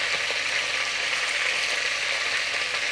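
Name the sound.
garlic frying in a pan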